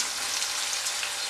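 Okra (ladies finger) frying in hot oil for a Kerala-style mappas, a brief, steady close sizzle with fine crackling and no talking.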